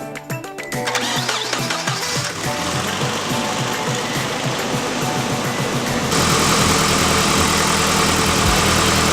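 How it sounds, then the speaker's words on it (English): A Nissan 240SX engine cranks with a rapid mechanical chatter, then catches and settles into a steady, close, rumbling idle. "And now we just start the car."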